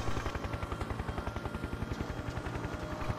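A helicopter in the racing video game Need for Speed: The Run beats overhead with a fast, steady rotor thump, loud and continuous, with no speech.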